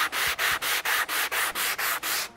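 Rhythmic back-and-forth rasp of a sanding block rubbed by hand over a surface, about ten even strokes in quick succession, close and loud with short gaps between each pass.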